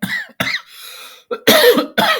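Several harsh coughs close to the mic, a couple of quick ones early and then two louder, heavier coughs near the end with a short pause between.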